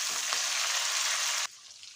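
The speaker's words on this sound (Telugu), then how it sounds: "అలాగే ఒక 8 యాలకులు కచ్చపచ్చగా వేసేసేసి బాగానైతే వేపుకోండి." Green chillies, curry leaves and eight cardamom pods fry in hot oil for a tempering for chickpea prasadam, giving a loud, close hiss of sizzling that cuts off abruptly after about a second and a half.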